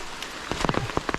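Rain falls on a slippery rocky path in Kerala, a brief close spatter of drops hitting the ground over a steady hiss.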